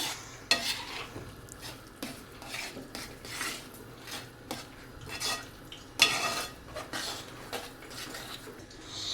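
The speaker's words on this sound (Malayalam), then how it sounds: "എന്നിട്ട് അതിലേക്ക് നമ്മൾ വേവിച്ച് വെച്ച ചെറുപയർ പരിപ്പ് വേവിച്ചോടെ ഇട്ട് കൊടുക്കുന്നുണ്ട്. രണ്ടും കൂടെ ഇനി മിക്സ് ചെയ്യണേ." A spoon stirs cooked split green gram into rice payasam in a metal pot, with repeated scraping and clinking strokes against the pot over a soft bubbling background, close by and with no talk.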